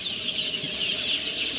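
Local baby chicks in a brooder in winter give a continuous chorus of high, thin peeping, close and fairly loud, with no talking.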